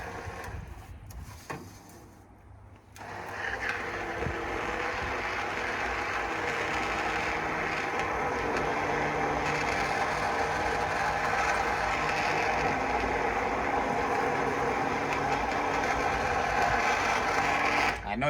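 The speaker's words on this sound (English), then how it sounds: "take our hand mixer and puree those big, the big pieces of chipotle in there" A handheld blender purees big chipotle pieces, a steady high whirring drone that starts after a short quiet pause and runs on continuously. It is close and loud.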